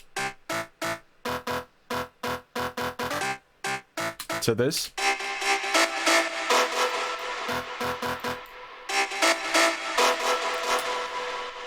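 Short stabbing synth chords in an old-school rave house style, punchy and rhythmic, then a dense sustained layer of chords; a brief spoken word sits near the middle.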